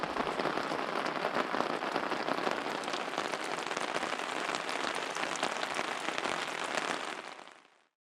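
Steady, dense rain patters on a camp tarp in the boreal forest of Wabakimi, a close, even hiss of countless drops that holds unbroken before fading away at the very end.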